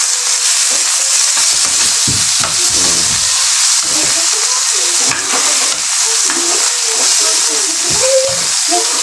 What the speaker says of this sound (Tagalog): Isaute ang karni.